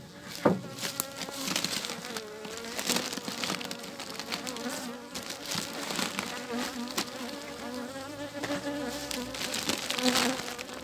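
A dense, steady buzz of many honeybees in an opened, smoked hive, loud and continuous with scattered clicks and knocks.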